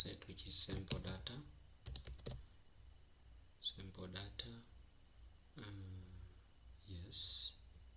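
Someone types commands into R Studio on a computer keyboard, with short bursts of crisp keystrokes and clicks alternating with a speaking voice.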